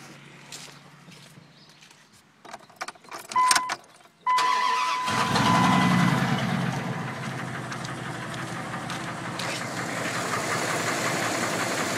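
A few clunks and rattles, then a 2000 Dodge Ram 1500 Sport 4x4 pickup's V8 engine cranks and catches, settling into a steady, rumbling idle close by.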